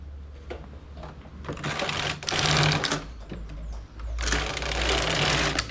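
A domestic knitting machine carriage sweeps across a row of 2x2 rib while a buttonhole is worked. It makes loud, rushing mechanical swishes in several bursts with brief pauses between passes, and no voices are heard.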